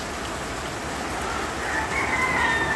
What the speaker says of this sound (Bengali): ভালোই আলহামদুলিল্লাহ বৃষ্টি বৃষ্টি হচ্ছে